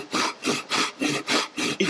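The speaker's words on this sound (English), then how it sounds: "With very little effort, look how fast I'm cutting through this feature." A Japanese pull saw cutting quickly through wood, with about seven even, rhythmic rasping strokes, each a loud, close scrape separated by short pauses.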